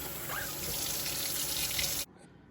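Steady rush of water from a tap filling a bucket of bird seed and corn for carp bait, close and continuous, cutting off abruptly near the end.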